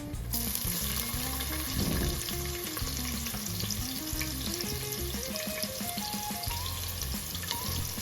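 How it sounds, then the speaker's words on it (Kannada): Chopped onions frying in a pan for vegetable pulao give a steady, close sizzle that runs the whole way through, with background music playing over it. "ನಾನು ಮೊದಲಿಗೆ ಈರುಳ್ಳಿ ಹಾಕ್ತಾಯಿದ್ದೀನಿ"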